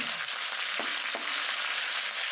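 Curry leaves, about fifteen to twenty, sizzle in hot oil with black mustard seeds and dried red chillies for poha, a steady close crackling hiss with two brief pops, no talking.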